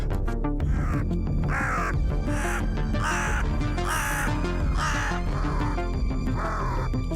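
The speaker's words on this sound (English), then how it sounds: "That crow sounds absolutely pissed off." A crow in the BattleJuice Alchemist video game caws harshly again and again, about seven loud, rough calls in a steady rhythm over constant game music and ambience.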